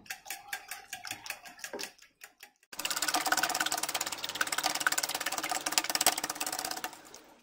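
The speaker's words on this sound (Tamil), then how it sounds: "எக் எல்லாத்தையும் நல்லா சேர்த்துட்டு நல்லா பீட் பண்ணிடுங்க இந்த மாதிரி ஒரு ஃபோர்க் எடுத்துகிட்டு பீட் பண்ணோன்னா நல்லா மிக்ஸ் ஆயிரும்" A fork beats eggs in a bowl for an omelette, first as a string of distinct tapping clicks, then as faster, continuous clattering whisking, close and moderately loud.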